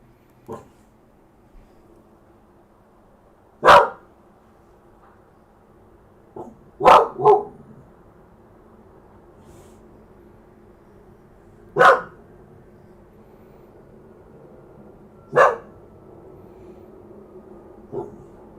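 A dog barks in Fallout 4, giving five or six sharp single barks spaced a few seconds apart. They sound fairly close and carry over a quiet, low background hum.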